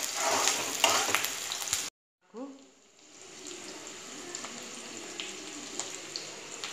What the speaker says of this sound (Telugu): పచ్చిమిరపకాయలు 2-3, ఫ్రై కానిద్దామండి.